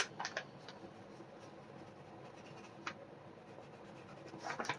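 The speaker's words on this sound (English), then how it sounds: "I'm gonna write the times in this bag." A pen scratches on a Sally's paper bag up close, short faint scribbling strokes at the start and end with quieter gaps and a soft background hum.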